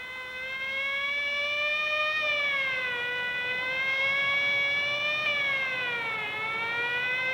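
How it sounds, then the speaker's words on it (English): A wailing siren sounds loud and steady, its pitch slowly rising and falling in long sweeps with no voices over it. "Quite unnecessary use of that siren"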